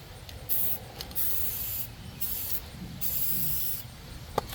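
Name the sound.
spray painting red primer on tiller tines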